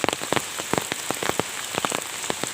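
Steady rain falls in the open beside flooded fields, with close, distinct drops pattering in an irregular rhythm over a constant wash of rainfall and no voices.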